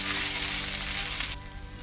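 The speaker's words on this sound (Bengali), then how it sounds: "এই যে দেখেন আমার চালটা পুরোপুরি সুন্দরভাবে ভাজা হয়ে গেছে" Rice fries in hot oil in a pan for a meatless home-style biryani, a steady close bright sizzle that cuts out sharply near the end, leaving a faint softer hiss.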